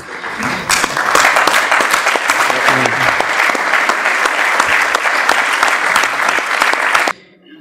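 An audience claps warmly at a tribute to veterans of the 1982 war, a dense, sustained round of applause from a crowd that holds steady for about seven seconds, then cuts off abruptly.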